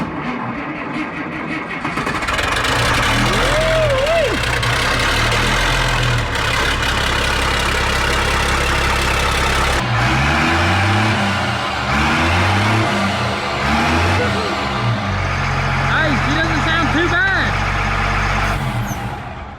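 A vehicle engine rumbles steadily at idle, with a couple of revs rising and falling, while people talk over it.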